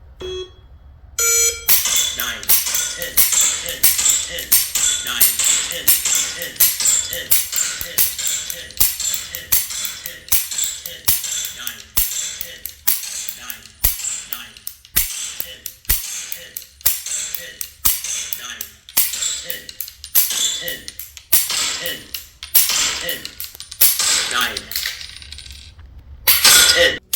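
Repeated sharp clicks from dry fire practice with a Beretta pistol fitted with a laser trainer, dozens of crisp trigger snaps at a quick uneven pace, close and loud, with no one talking.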